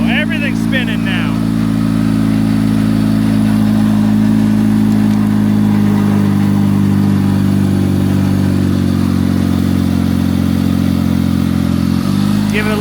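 A Honda Accord engine, being repaired, runs with a loud, steady, low droning hum throughout, with a brief clatter right at the start as it fires up.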